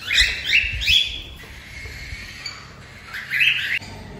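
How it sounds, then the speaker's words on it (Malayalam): Several cockatiels squawk and chirp in harsh, bright bursts, with loud calls at the start and again near the end, and quieter chatter in between. "കോക്ടീസ് എന്നാണ് ഇതിൻ്റെ കിളിയുടെ പേര്."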